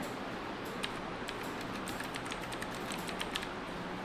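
Fingers tap out a name on a computer keyboard in a graphic design lesson, a quiet, steady run of light clicky keystrokes over a faint background hiss, with no voices.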